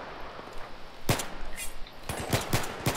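Gunfire in Battlefield 3, with bursts of automatic shots: a quick volley around the one-second mark, then a tight rapid string of loud cracks over the last second, heard over steady game background noise.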